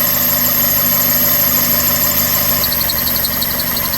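Car engine idling steadily with a strange rattling, vibrating noise from the clutch area, close and continuous, with a faint repeating tick in the upper range and no talking.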